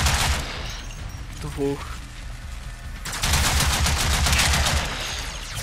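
Rapid automatic gunfire in the Warframe video game, with a short opening burst followed later by a longer sustained volley of dense, loud shots, while someone speaks in between.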